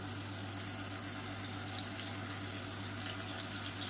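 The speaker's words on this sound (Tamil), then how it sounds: "மிக்சியை அலசிட்டு அந்த தண்ணியை வந்து கொஞ்சமாக சேர்த்துக்கலாம்" Steady running water from a tap rinses out a mixer grinder jar in a kitchen, an even, fairly quiet rush with no talk.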